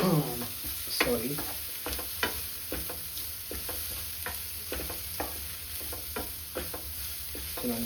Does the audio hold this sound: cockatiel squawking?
no